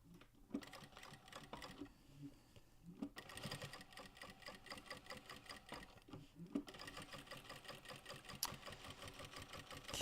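A sewing machine bastes through all the layers of a bag, running in long continuous stretches with a steady, close mechanical whir and a couple of brief pauses.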